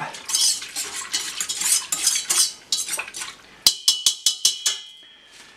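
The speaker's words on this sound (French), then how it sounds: "Je mélange un petit peu tout ça au fouet." Milk, water and yeast are whisked in a metal bowl: fast scraping and clinking strokes, then a run of sharp evenly spaced taps as the whisk knocks the rim, close and clear.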